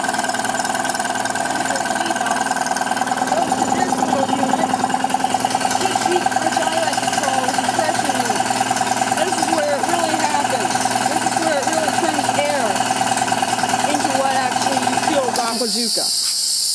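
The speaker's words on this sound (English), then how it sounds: "let's get a more detailed look at this compressor" An Aqua Zooka air compressor's motor drives a V-belt and pistons, giving a steady mechanical hum with a fine ticking rhythm that holds at an even, close level before dropping off near the end.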